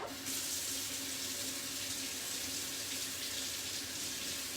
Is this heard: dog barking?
no